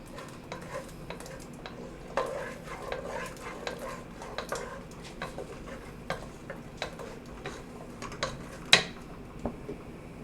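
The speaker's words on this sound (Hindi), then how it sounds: "इसको साथ साथ आपने हिलाते जाना है, ऐड करते जाएं, आप हिलाते जाएं" A spoon works through spiced gram flour and lassi batter in a pot for curry pakora, giving a quiet, steady run of soft ticks and scrapes with faint bubbling underneath and one brighter clink near the end.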